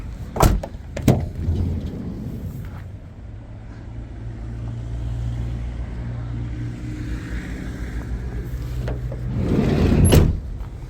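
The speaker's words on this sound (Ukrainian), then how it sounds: "дверцята файно закриваються." A minibus's sliding door thuds shut, followed by an idling engine hum and another heavy door slam near the end.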